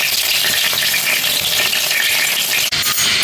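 Mackerel frying in oil in a pan over a low flame, a steady dense sizzle that stays loud throughout with one brief dip near the end.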